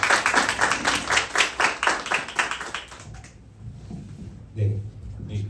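An audience at a church youth group lecture claps in rhythmic unison after a talk, loud and close for about three seconds, then fades into scattered taps and room noise.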